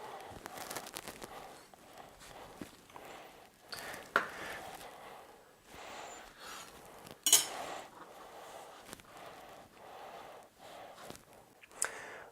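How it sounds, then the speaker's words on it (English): A sharp knife cutting tortillas into quarters, with soft irregular cuts and a few clinks of cutlery on a board or plate, fairly quiet and close. "take a sharp knife, unsheath it carefully, and cut your tortillas into quarters"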